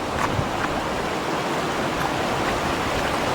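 Waterfall flowing in the Konkan countryside: a steady, dense rush of falling water that holds an even loudness throughout, with no voices over it.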